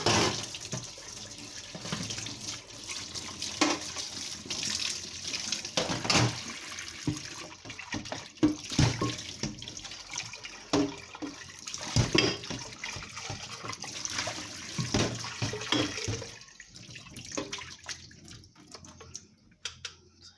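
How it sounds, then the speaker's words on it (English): Running tap water rinses a kitchen strainer used for straining homemade mango, apple and pear juice with ginger, a steady close splashing stream with bursts as the mesh moves under the flow, easing off near the end. "I'm just gonna give my strainer a rinse."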